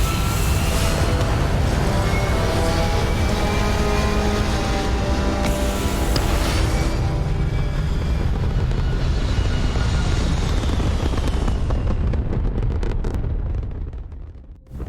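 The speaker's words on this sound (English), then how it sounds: "Thrusters firing." Spaceship thrusters roar on takeoff in the video game Starfield, a loud, dense, sustained blast of rumbling thrust that holds steady for about twelve seconds before fading out, with no talking.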